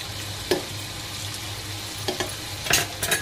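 Masala spice mix frying and sizzling in a pan for palak paneer, a steady close hiss with occasional sharper crackles and stirring scrapes, no voices.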